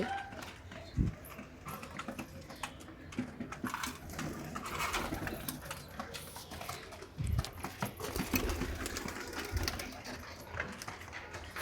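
Pigeons in a loft give soft low coos amid wing flutters, scratching and shuffling, with a few sharp knocks and a faint voice in the background.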